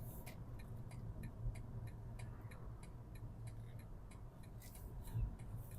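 A car's turn signal indicator ticks in a steady, regular rhythm while the car is driven during a driving-instructor test drive, the clicks sitting over a constant low engine and road hum inside the cabin.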